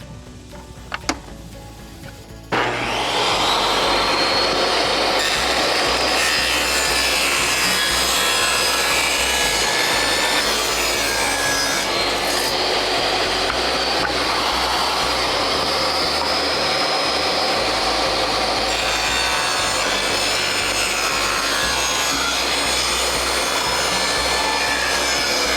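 A power saw rips through wood for the base of a self-watering plant tray, starting after a couple of faint knocks and then holding a loud, continuous whining cut with a gritty, rasping edge.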